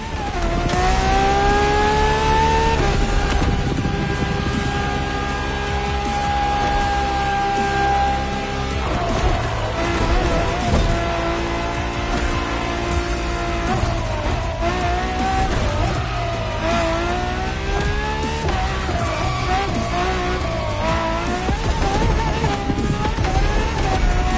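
A Ferrari LaFerrari hybrid sports car with an F1-style kinetic energy recovery system accelerates hard, its loud engine note rising and falling through repeated gear-change sweeps for over twenty seconds with no talking.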